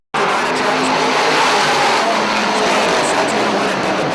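Dirt modified race cars roar around a speedway in Plattsburgh, New York, giving a loud, dense, continuous engine din that starts abruptly and holds steady, while a voice talks over it.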